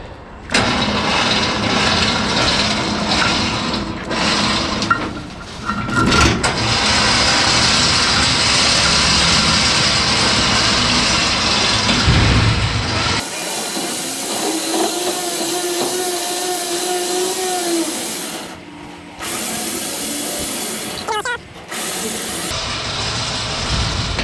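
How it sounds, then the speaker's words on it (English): Winch lowering a built big-block Chevy car off a trailer outdoors: a loud steady mechanical whine and rumble for about thirteen seconds, then quieter whirring with brief pauses and stops. "we got the winch fixed, so now we're gonna try to let it off"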